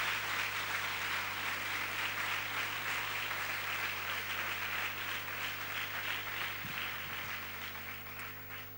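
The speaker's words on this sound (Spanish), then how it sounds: "voy a pedir también que le den un aplauso también de cariño" A church congregation gives an affectionate round of applause to honor its elders. The clapping is moderately loud and continuous, with a steady low electrical hum underneath, and it fades slightly toward the end.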